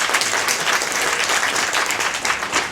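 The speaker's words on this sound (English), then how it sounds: "Keep the applause going for four-time Olympian Lisa Waitman" Sustained, loud applause from an audience at the elite race bib presentation of the 2025 TCS Sydney Marathon in honor of a four-time Olympian marathon runner, a dense steady wash of clapping with no talk over it.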